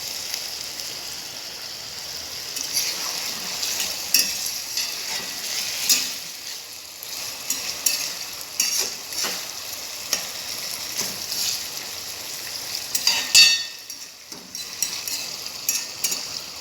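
Shrimp frying in a pan crackle and spit with uneven bursts of sizzle, close and moderately loud, with scattered sharp pops throughout.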